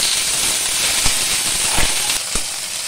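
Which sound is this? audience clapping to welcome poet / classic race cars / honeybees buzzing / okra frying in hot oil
okra frying in hot oil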